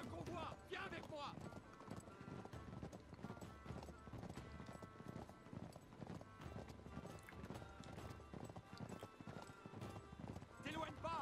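Horse hooves gallop in a rapid, steady rhythm in the Uncharted 3 video game, loud and continuous, with voices speaking over the hoofbeats throughout.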